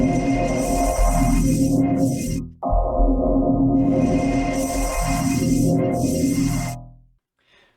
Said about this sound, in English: we start to get a sound that is like really beefy in the low end.